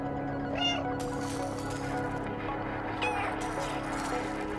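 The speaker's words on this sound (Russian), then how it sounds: "На каждый мяу реагирует." A cat meows in the Stray video game, a couple of short, thin meows over a steady, dense game soundtrack and ambient hum.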